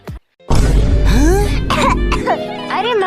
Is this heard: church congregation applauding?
no